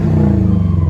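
A Subaru Outback XT turbo fitted with a budget cat-back exhaust runs with a deep, throbbing burble, loud and close, in a brief burst with no talk.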